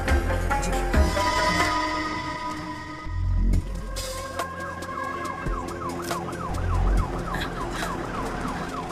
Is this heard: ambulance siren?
yes